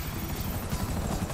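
FIB helicopter in Grand Theft Auto V hovering close overhead, a steady dense rotor thrum and broadband engine roar holding level and continuous for the whole moment.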